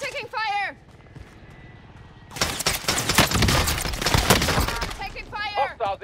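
Dense rapid gunfire rattles in a video game battle, a sustained burst lasting several seconds between bursts of shouted voice lines from an in-game character.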